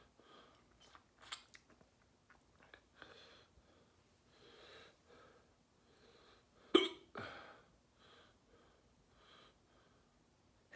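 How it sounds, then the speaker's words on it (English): Several hiccups scattered through a quiet room, with one sharper, louder hiccup near the middle followed by a softer one; there is no talking. "Hiccups."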